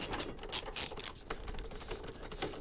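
A ratchet tightens towbar nuts on a 2013 Mini Clubman, with several quick, bright clicking bursts close up in the first second, then softer intermittent clicks.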